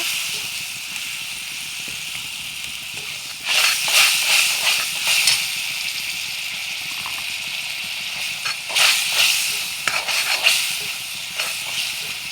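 A spiced mixture with water and a little salt is sautéed in a pan, giving a steady frying hiss with louder sizzling bursts as it is worked, heard close and alone.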